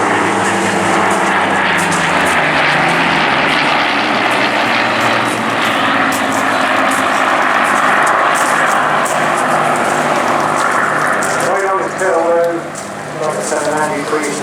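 A pair of Battle of Britain Memorial Flight Spitfires passing at Eastbourne Airshow, a loud sustained piston-engine roar that swells and then fades as they pass, with a commentator talking over a public address.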